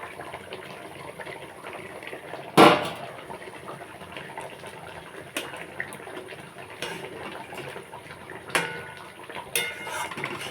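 Katla fish kalia curry, seasoned with ground coriander, cumin and garam masala, simmers in a pan with a steady watery bubbling hiss. A single loud metallic clank sounds early, followed by a few faint utensil clinks.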